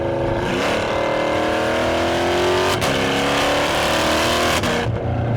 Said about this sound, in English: You hear a lot of that exhaust. Downshifts are really good.